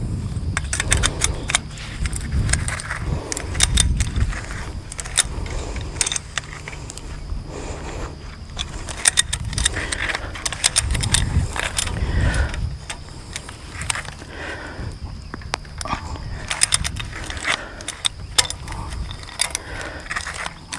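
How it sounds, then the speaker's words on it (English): A ratchet tool tightens goat fence wire on a fence brace outdoors, giving repeated metallic clicks and rattles in uneven bursts, fairly close, over a steady background. "let's get our little ratchet tool and see if we can ratchet it tight."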